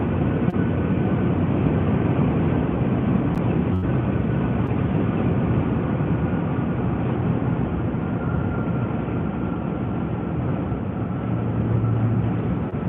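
A steady, loud roar of airplanes landing overhead fills the whole stretch, a continuous broadband rumble with no voices.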